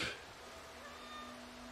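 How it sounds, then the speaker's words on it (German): A cat meows once in the video game Stray, a short faint mew at the start that fades into a quiet tonal background. "Langsame schwarze Katze"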